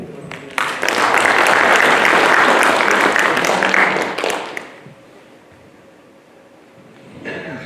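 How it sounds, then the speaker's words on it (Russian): A hall audience at a Soviet centenary meeting bursts into loud, dense, sustained applause that holds for about four seconds, then fades to quiet murmur before a voice begins speaking. "Ваши дружные аплодисменты"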